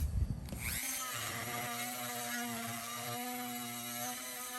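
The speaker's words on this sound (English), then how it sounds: "Use my extra security screws to hold that in place." A power drill drives security screws into a snowman decoration under repair, beginning with a brief rough burst and then settling into a steady, fairly faint motor whine.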